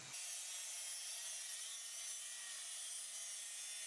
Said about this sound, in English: set down my track saw and cut the ends nice and square